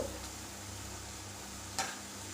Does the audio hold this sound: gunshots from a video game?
no